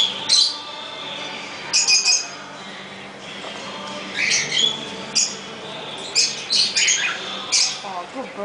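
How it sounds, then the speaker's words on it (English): A pet bird squawks and chirps in repeated sharp bursts nearby, with quieter stretches between calls and people talking at times. "It's a pretty bird."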